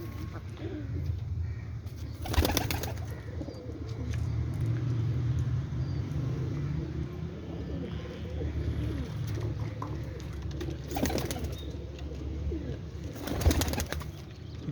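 Pigeons in a loft at a Pakistani pigeon club, soft cooing and occasional wing flaps over a steady low hum, with a few louder broadband bursts from nearby movement.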